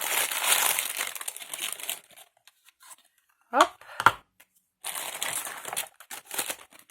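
Crinkly black paper handling, then two sharp crunching punches of a paper punch in quick succession, followed by more rustling; a voice speaks briefly.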